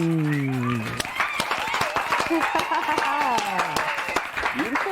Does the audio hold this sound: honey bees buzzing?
no